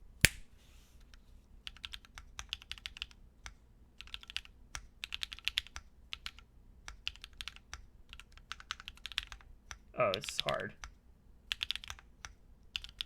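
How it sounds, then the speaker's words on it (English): Typing on a Prisma prototype mechanical keyboard, with bursts of crisp, close key clacks in an uneven rhythm and brief pauses, plus one short spoken remark midway. "So we're going to try left space, just do a typing test and see how this sounds."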